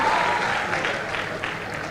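A crowd at a Kenyan girls' high school thanksgiving event breaks into dense, sustained applause that slowly thins out over two seconds.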